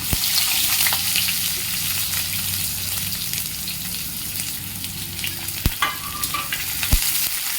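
Chopped onion frying in hot oil with cumin seeds, a loud continuous sizzle with a few sharp utensil knocks near the end; no talking.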